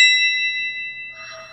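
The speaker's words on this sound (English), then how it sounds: "in order to like figure out like crystal goblets versus like glass goblets, all you do is you flick them." A crystal goblet flicked with a finger rings out with a clear, sustained bell-like tone that slowly fades, with a softer second ring or rustle joining near the end.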